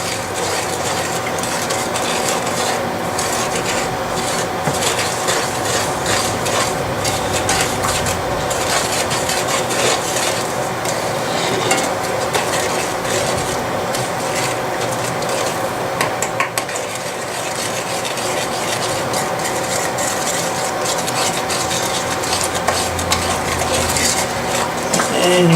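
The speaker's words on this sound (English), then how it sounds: "And I'm just going to stir that up." A spoon works cocoa, sugar and milk together in a bowl for chocolate oatmeal cookie batter, giving a loud, continuous run of rapid scraping and clicking against the bowl.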